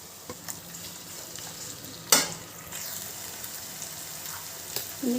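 Grated raw mango fries in a pan with a soft, steady sizzle, broken by one sharp clatter of stirring and a few smaller scrapes nearby.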